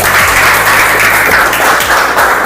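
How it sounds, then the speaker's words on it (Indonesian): An audience claps loudly and continuously at a school session in Indonesia, a short, dense, close burst of many hands with no pause. "Kita tepuk tangan yang meriah."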